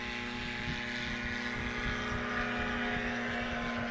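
A Chinook STOL propeller aircraft attempts a short takeoff at Ontario Municipal Airport, its engine a continuous loud, nearby droning hum with a strong steady tone and no voices over it.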